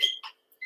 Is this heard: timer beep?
yes